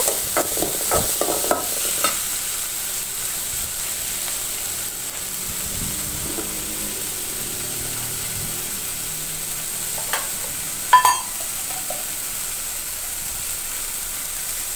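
Tomatoes sizzle steadily as they are sautéed in a pan, with occasional scrapes and stirring clinks up close, the hiss continuing throughout without any talk.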